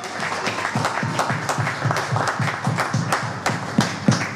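Congregation at a church seminar claps steadily in a dense, rhythmic burst of applause, with a few louder claps standing out near the end.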